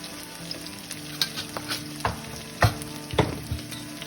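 Chicken sizzles in a hot karahi pan as spices are added, a steady close frying hiss punctuated by louder crackles and stirring scrapes, with no voices.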